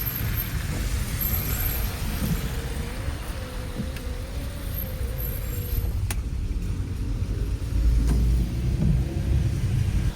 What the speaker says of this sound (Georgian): აქ ხალხო ისეთი საცობი იმდენი ხანია ვდგავართ.